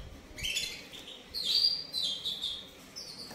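Small caged birds for sale, a male and female pair, chirp and tweet in quick bright bursts, close by and fairly clear, with no talking over them.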